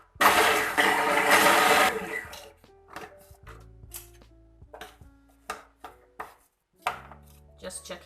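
Food processor blends chickpeas for falafel in a loud whirring burst of about two seconds, followed by scattered knocks, taps and short clatters as the bowl is handled.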